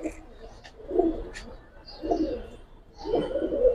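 Giribaz pigeons coo in a loose series of three soft, throaty calls, close by, with faint chirps and background murmurs between them.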